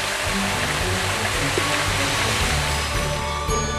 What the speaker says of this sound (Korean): 온몸을 두들기는 세찬 물줄기로 폭포 마사지를 즐기는 것입니다